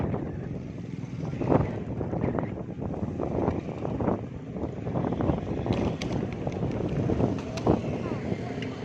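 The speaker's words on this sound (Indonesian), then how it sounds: "Angin besar." Strong gusting wind roars steadily across the microphone during a windstorm in Bekasi, a broad continuous rush with surges, while voices talk faintly underneath.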